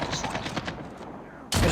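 Rapid sniper-rifle gunfire in the mobile shooter COD Mobile, a quick run of light shots with game effects, ending in a louder burst.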